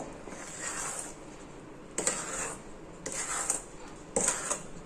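A spoon scrapes and stirs mango shrikhand with dry fruits in a bowl, giving three or four soft, distinct scraping strokes at a moderate, unhurried pace, fairly quiet.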